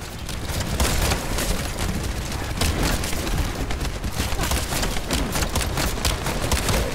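Hand cannon gunfire in The First Descendant video game, a dense, continuous barrage of loud booming shots and blasts that fills the whole stretch without letup.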